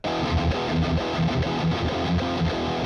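Electric guitar played through a Positive Grid BIAS X amp model with the fuzz dialed back, a loud, mildly distorted run of picked notes and chords, alone with no talk.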